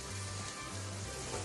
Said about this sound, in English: I want you to hear the beautiful sizzle